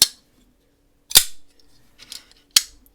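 A Hinderer Jurassic folding knife snaps open off its thumb studs in sharp, crisp clicks, three distinct loud snaps spaced about a second apart with faint handling rattles between.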